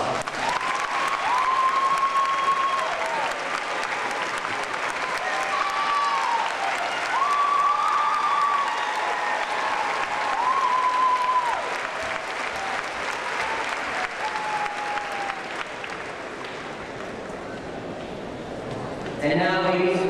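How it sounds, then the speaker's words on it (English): The audience at a high school graduation ceremony applauds the parents, a loud, sustained round of clapping that lasts about twenty seconds, with voices and a few tonal sounds mixed in. "Students, please let's give your parents a round of applause."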